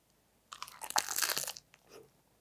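Someone bites into a big rice ball made from rice cooked in a clay pot, giving one close, crisp crunch that lasts about a second, followed by a softer chewing sound in an otherwise quiet setting.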